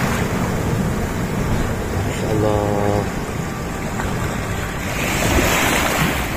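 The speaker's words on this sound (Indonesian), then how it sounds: "air yang cukup bening begitu ya, dengan ombak yang cukup besar terhempas begitu" Large waves crash and surge near a rocky shoreline hole in clear water, a steady roaring wash with wind buffeting the microphone, while a person briefly exclaims over it.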